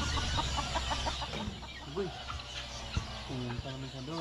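Chickens cluck in short repeated bursts, with a few louder squawks toward the end, over steady outdoor background noise.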